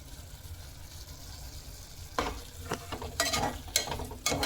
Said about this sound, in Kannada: ಇವಾಗ ಅಕ್ಕಿ ಹಾಕಿಬಿಟ್ಟು ಒಂದು ಸ್ವಲ್ಪ ಹುರಿಬೇಕು